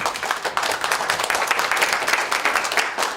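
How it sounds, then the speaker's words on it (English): An audience gives a light golf clap at a talk, steady soft patter of many hands clapping continuously without cheering. "Don't y'all love that little golf clap thing?"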